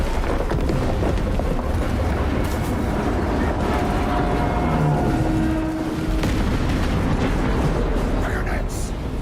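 Detonated charges in a battle video game set off a heavy, continuous roaring rumble that stays loud and dense throughout, like sustained blasts and debris.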